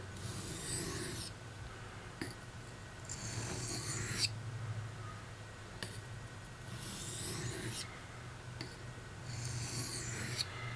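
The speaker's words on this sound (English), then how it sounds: "light alternating strokes, to remove that burr" A knife is drawn across a sharpening whetstone in light alternating strokes to remove a burr, producing a run of rhythmic, raspy scrapes close up with short gaps between them.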